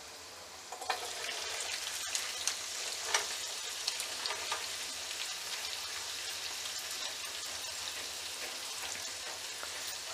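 Chopped onion drops into hot oil tempered with garlic and chilli, setting off a loud, dense sizzle with a few sharp crackles and stirring clicks early on, then a steady frying hiss.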